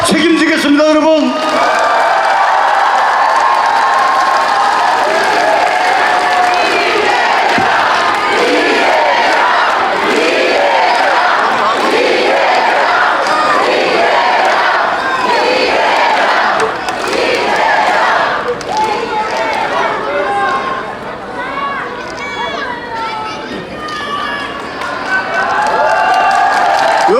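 Crowd at a Busan political rally for a Democratic Party candidate cheers and shouts loudly and continuously, with clapping mixed in under an amplified speaker's voice.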